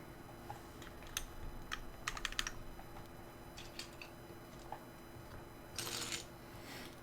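Keycaps for a Bacca60 keyboard build are picked up and sorted. Scattered light plastic clicks and taps come in brief clusters, and a longer rattling burst sounds near the end, with no speech.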